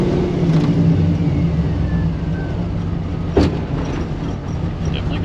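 The engine of a 1955 Chevy Nomad gasser with a stick shift, idling roughly nearby as a steady low rumble, with one short knock or pop midway.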